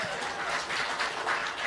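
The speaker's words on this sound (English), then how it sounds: "Why are you clapping?" Audience applause at a stand-up comedy show, a steady wash of many hands clapping together for under two seconds, fairly even and moderately loud throughout.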